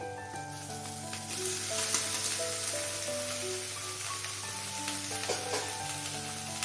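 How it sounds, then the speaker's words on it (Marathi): Cooked elephant foot yam tossed into a pan of browned onions sizzles and fries with a steady, close, even crackle throughout, and there is no talking. "आता ह्याच्यामध्ये मी सुरण जे हे बघा असं छान शिजलेलं आहे ते टाकते"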